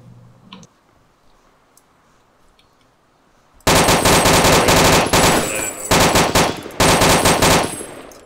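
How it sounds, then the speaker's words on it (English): Rapid automatic gunfire in Arma 2 DayZ Overpoch bursts in loudly after a few quiet seconds, in long sustained strings of close shots broken by two short gaps. "Shooting at me"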